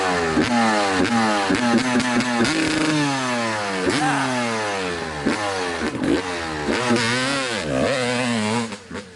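A 1989 Honda CR250R motorcycle revs hard several times in quick succession, each sharp rising whine dropping back before the next, loud and close.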